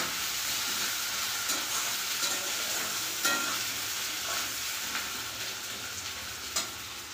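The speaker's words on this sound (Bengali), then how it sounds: "এদিকে তো আলু ভাজা চলছে, আলু আর পেঁয়াজ" Potatoes and onions frying in hot oil as a side for crab curry, a steady close sizzle that runs the whole time with occasional spatula scrapes and stirs, no voices.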